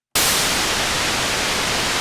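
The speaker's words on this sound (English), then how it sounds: "you want to load your favorite synth with a noise oscillator" A steady wash of hissing white noise from a noise oscillator in the RetroSynth synthesizer, loud and unbroken, starting abruptly and holding without change.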